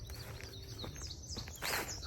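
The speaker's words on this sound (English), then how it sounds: "Listen to the birds." Birds chirp by a lake during a nature hike, with repeated high tweets and calls at moderate distance over faint outdoor ambience and a few footsteps.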